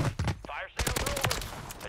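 AK-47 fire in Warzone: dense, fast bursts of close automatic gunshots with a brief gap, firing under a player's voice.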